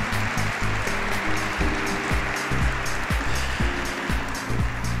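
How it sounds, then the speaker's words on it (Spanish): An audience at a talk on coffee around the world applauds for Paloma with dense, steady clapping that stays even throughout, over low droning background tones. "un gran aplauso, por favor, para Paloma"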